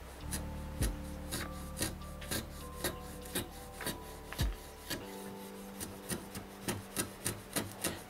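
A freshly sharpened chisel pares end grain wood in a series of short rasping cuts, about a dozen close, scraping strokes at a steady rhythm, with no talk.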